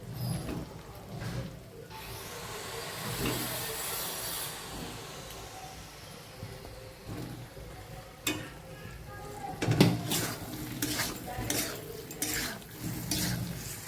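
Chunks of yam and potato tumble into a hot pan of spices and get stirred, with scraping, clattering and sizzling textures continuing steadily at close range, growing busier in the second half.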